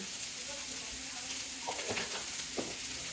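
Carrots, capsicum, beans and onion sizzle steadily in a pan over a high flame, with a continuous close frying hiss and a few brief stirring scrapes near the end.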